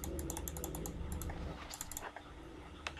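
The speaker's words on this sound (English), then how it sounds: "I apologize for the clicking of my mouse" Rapid mouse clicks from a laptop setup during Black Ops 2 gameplay, a dense run of sharp ticks over the first two seconds, then sparser clicks with one louder tick near the end, steady background hum underneath.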